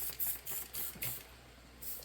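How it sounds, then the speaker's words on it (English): Soapy water sprayed onto an ATV tire during a restoration of an ATC250R three-wheeler, heard as several short hissing bursts from a spray bottle, close and fairly loud, with pauses between pumps. "Spray her down here a little bit with some soapy water"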